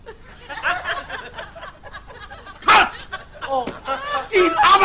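A dog barks and yips in short bursts during a dog food commercial take, mixed in with close talking voices.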